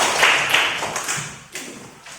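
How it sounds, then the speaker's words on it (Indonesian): Students in a classroom clap their hands together in a brief burst, a scattered patter of hand claps that fades after about a second, with a few softer stray claps trailing after. "Tepuk tangan."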